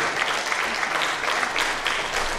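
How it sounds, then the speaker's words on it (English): A rally crowd inside a theater applauds, dense continuous clapping with a few scattered whoops, steady and fairly loud for the whole short stretch. "So give yourselves a round of applause for even being here tonight."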